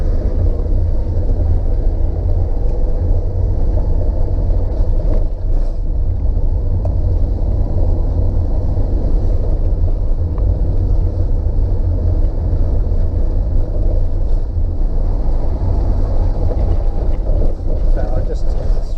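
A 2007 camper van driving along a road, heard from inside as a loud, steady low engine and road rumble with wind buffeting that carries on unbroken throughout.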